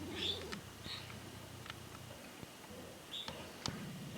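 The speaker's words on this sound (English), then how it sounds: "there's plenty of doves today" Doves gather near a lakeside spot with woodpeckers, soft low cooing phrases rising at the start, then scattered faint calls, sharp chirps and small clicks in a quiet outdoor setting.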